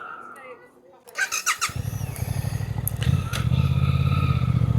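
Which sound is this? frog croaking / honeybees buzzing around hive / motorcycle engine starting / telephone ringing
motorcycle engine starting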